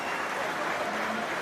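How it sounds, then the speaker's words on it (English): A crowd at a Munster v Edinburgh rugby match applauds a substituted young player, Ben Healy, as he leaves the field; a steady wash of clapping spreads across the stands, moderately loud, with no voices on top. "a nice round of applause for young Ben Healy as he's withdrawn in the 62nd minute here"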